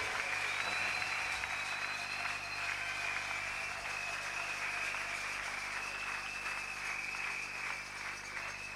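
Sustained congregation applause at a church worship service, dense continuous clapping with a faint high tone running through it, steady from start to finish.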